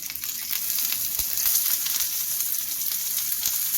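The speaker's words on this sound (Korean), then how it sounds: "역시 고기 있는 소리가 참 영롱하죠?" Pork belly chunks sear in a pot for bossam suwon, a steady close sizzle and crackle of frying fat running without a break, with a brief pop partway through.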